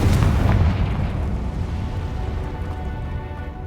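A fire spell explosion in a video game, one heavy boom at the start that rolls into a long rumbling decay, loud and close, no speech.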